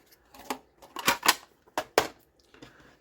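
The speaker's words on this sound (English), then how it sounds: "Just grab my scissors again." Scissors snip through fabric while mitering the corners of a soft journal cover, giving several short, crisp cuts in close succession, near and fairly quiet, with no talk.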